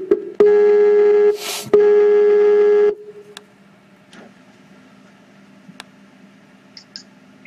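A Skype video call ringing, two long electronic ring tones close and loud with a short gap between them, followed by quiet faint clicks and ticks.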